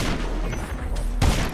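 Gunfire in a battle royale video game, a dense burst of shots with a heavier blast near the end, loud and close over continuous game background.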